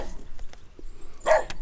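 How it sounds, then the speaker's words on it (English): A dog at a campsite barking in a short, somewhat muffled burst near the end, with a fainter yip earlier, set against outdoor background noise. "Rasher the dog's kicking off"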